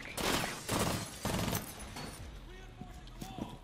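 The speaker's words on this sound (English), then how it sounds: "I'm shooting them motherfuckers right in their face." Rapid bursts of gunfire from the tactical shooter Rainbow Six Siege during a ranked match, loud and close in the first half, then tapering into sparser, quieter shots.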